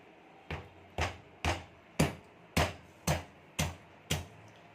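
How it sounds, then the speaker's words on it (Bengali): Washed potatoes crushed one by one with a stone pestle, eight firm thuds in an even rhythm, close and clear with no talking. "আলুগুলোকে আমি একটু এই পুতার সাহায্যে থেতো করে নেব।"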